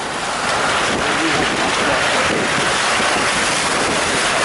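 A waterfall pours beside a mountain road on the way to Lai Chau, Vietnam, making a loud, steady, broadband roar of rushing water that holds unbroken throughout, with no voices.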